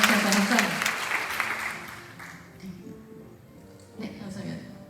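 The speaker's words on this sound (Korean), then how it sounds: "우리 노아 순장님께 박수 한 번 더 보내주세요." A small gathering at a summer retreat claps for a group leader, a burst of applause that fades within a couple of seconds, with a host's voice speaking over and after it.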